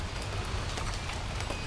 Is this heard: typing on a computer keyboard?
no